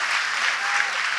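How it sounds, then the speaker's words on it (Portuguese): A studio audience claps together in steady, dense applause that stays loud and close throughout the short burst, with no talking over it. "Ai, adoro aplauso."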